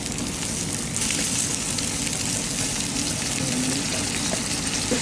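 Onions fry vigorously in hot oil for Kerala kadala curry, a loud, dense, continuous sizzle filling the clip close up without any pause.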